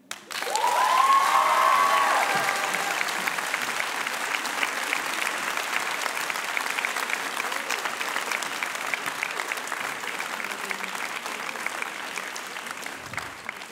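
An audience at a high school eloquence contest final bursts into loud applause and some cheering for a student's speech, a sustained crowd clapping that peaks early and then settles to a steady, slightly thinner patter.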